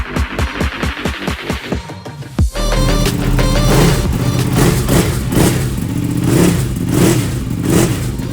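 A 2017 Ducati 959 Panigale ABS sport motorcycle idles with a lumpy, pulsing beat, then revs hard and holds a loud, close engine roar with repeated throttle swells.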